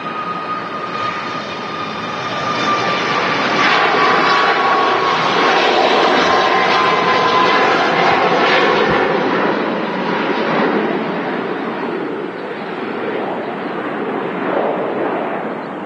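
A Sun Express Boeing 737 MAX 8 jet departing Manchester Airport for Antalya, its engines giving a loud, sustained roar that holds steady throughout with a faint whine, heard alone without talk.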